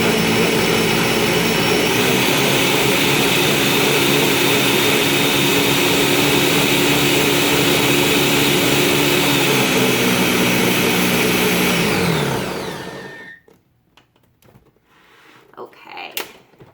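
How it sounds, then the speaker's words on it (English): A blender whirs loudly at a steady high pitch for about twelve seconds, then winds down and stops, leaving quiet clinks and faint rustling. "I'm going to turn the blender on, so it's going to be a little noisy."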